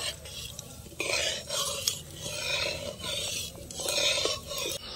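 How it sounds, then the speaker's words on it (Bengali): A spoon stirs sugar into hot oil in a pan for sweet and spicy green mango pickle, giving repeated scraping strokes over a soft sizzle, close and fairly quiet, with no talking. "চিনিটা এখন তেলের মধ্যে দিয়ে দেব। চিনিটা একটু নেড়ে চেড়ে নেব।"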